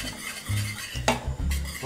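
A spoon stirs a milk mixture in a saucepan on the stove in a few quick scraping strokes against the pan, close and moderately loud with no talking.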